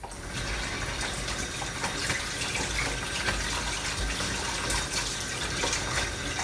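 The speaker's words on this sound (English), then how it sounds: "I need to go and wash my hands" Hands being washed under a running kitchen tap, a steady close gush of water with small splashing changes throughout and no talking.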